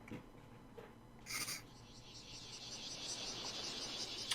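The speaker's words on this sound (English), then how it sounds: "Oh, cicadas." Cicadas from the End of Evangelion soundtrack rise into a faint, continuous high buzzing drone that grows steadier and fuller across the clip, with no talk.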